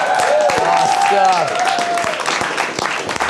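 A live studio audience claps and cheers, the applause loud and close, with voices calling out over the clapping as it gradually thins.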